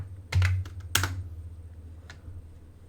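Someone types on a computer keyboard during a chill visual novel development stream. A short burst of close clicky keystrokes is followed by a few sparse taps, with a low steady hum underneath.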